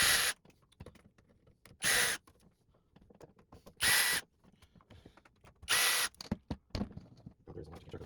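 Screws are being removed from the bottom access panels of an old Realistic STA-7 receiver, heard as small scattered clicks and scrapes broken by four short, loud bursts of a whirring tool at fairly even intervals.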